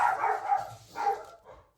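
A household dog barks in a few quick bursts close by, with short gaps between the barks and no talking.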